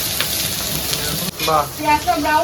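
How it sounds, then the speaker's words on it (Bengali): Onions drop into hot oil and fry with a loud, dense sizzle, flaring stronger and bubbling as they hit the pan midway, close and continuous, with faint voices in the background. "এবার পেঁয়াজ আচ্ছা গরম তেলে পেঁয়াজ গুলো চলে গেল"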